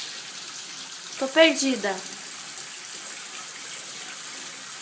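Water runs from a tap as a steady, soft hiss throughout, while a voice speaks briefly over it.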